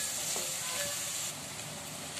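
Mutton pieces and onions fry in a pan for a Guntur-style mutton curry, giving a steady loud sizzle and hiss throughout that drops slightly near the end, with no voices.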